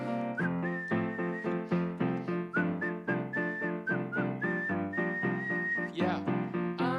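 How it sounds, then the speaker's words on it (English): A person whistles a sustained melodic line over a rhythmic musical backing at a live performance, the tune clear and prominent throughout. "Whistle."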